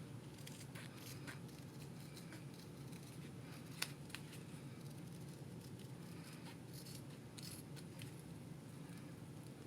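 Scissors cut out embroidered fabric for a key fob, a faint, close series of small snips and rustles over a soft background hiss, with one brief sharper click.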